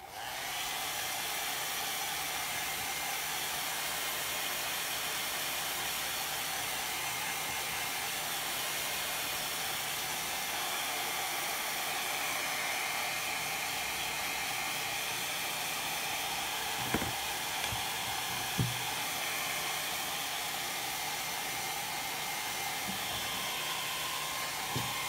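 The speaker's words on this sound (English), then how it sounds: "So I'm gonna blow dry this really quick." A hair dryer blows continuously for the whole stretch, a steady, fairly close airy roar with a few faint knocks near the end.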